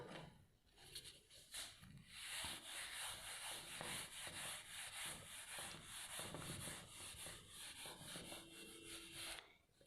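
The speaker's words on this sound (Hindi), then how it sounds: "ये मैं रब कर देती हूँ इसको" A board eraser rubs out writing on a classroom board in a long run of steady back-and-forth scrubbing strokes, fairly close and continuous with no talking.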